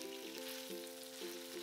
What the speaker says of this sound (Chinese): 下面稍微煎一下呢，你再去炒它